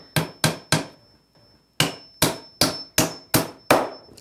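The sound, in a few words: hammering nails into wooden beekeeping equipment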